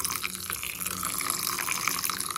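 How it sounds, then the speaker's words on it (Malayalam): Milk pours into a container for a Ragi-free Kerala-style muhabbat sarbath, a steady liquid splashing and trickling that runs continuously and fairly near, with no talking. "ഇനി പാലൊഴിച്ചാൻ പോവാണ്"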